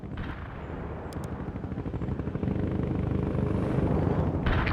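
Artillery barrage in the World in Conflict video game, a dense roll of rapid booming impacts that builds louder midway, with a brief higher whine near the end and no talk.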